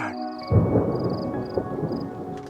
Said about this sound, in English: We got a thunderstorm like crazy coming in.